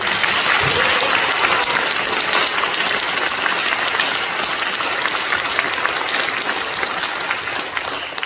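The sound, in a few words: congregation applauding at Easter service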